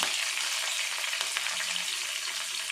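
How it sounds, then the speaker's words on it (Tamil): Garlic, curry leaves and shallots fry in hot oil, a close, steady, loud sizzle with faint crackles and no break, no speech. "இது எல்லாமே நல்லா வதங்கட்டும் எண்ணெயிலே அப்படியே வதங்கும்"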